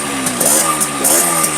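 Engine of a used vehicle at a sale lot, idling steadily and fairly smoothly, close and loud, with a continuous buzzing hum and slight rhythmic fluctuations throughout.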